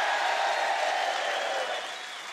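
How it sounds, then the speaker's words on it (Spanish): Studio audience at a Colombian TV comedy show breaks into steady, dense applause, loud and continuous, fading slightly toward the end. "Aplausos para Chucho"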